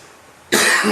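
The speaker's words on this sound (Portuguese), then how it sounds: "Eu esqueci da tosse que eu passei alguns dias sentindo" A single sharp, loud cough bursts out after half a second of quiet room tone.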